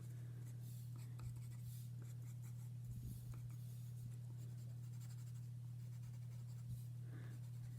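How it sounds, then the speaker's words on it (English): A pencil scratching steadily on paper while a portrait is drawn, a soft, continuous close scraping with small stroke rhythms over a constant low electrical hum. "See how I'm pressing down my pencil a little bit to create"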